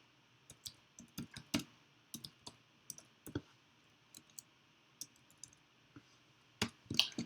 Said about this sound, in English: I can use the arrow keys on my keyboard to move from column to column or row to row.